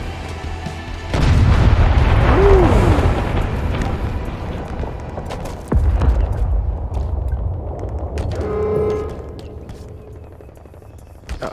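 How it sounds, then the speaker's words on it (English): A grenade launcher in the video game Halo Infinite sets off a heavy booming explosion with a rumbling tail, followed a few seconds later by a second blast, amid ongoing battle noise. "It's a grenade launcher."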